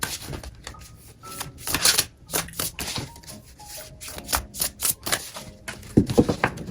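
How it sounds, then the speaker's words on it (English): Crisp riffling and slapping of larger-than-usual cards being shuffled up close, in uneven bursts with brief pauses, no talking. "These cards are a little bigger. They're kind of hard to shuffle."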